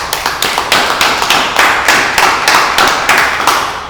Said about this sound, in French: Est-ce qu'on peut applaudir pour Tibicien?